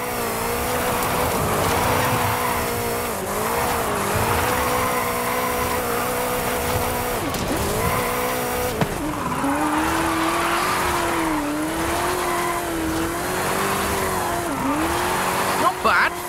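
A 2015 Mustang GT drifting in Forza Horizon 5 across Baja Mexico roads: a loud, steady engine roar rising and falling with gear changes, with continuous tire squeal through the slides.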